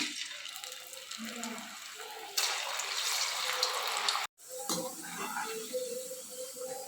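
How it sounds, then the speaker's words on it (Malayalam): Sliced purple yam (kachil) drops into hot oil in a pan and sets off a loud, bright sizzle. The sizzle rises abruptly, cuts out for a moment, then bubbles on close by after quieter kitchen noises. "ഓയിൽ ചൂടായിട്ടുണ്ട്. നമുക്കിതിലേക്ക് ഇട്ട് കൊടുക്കാം."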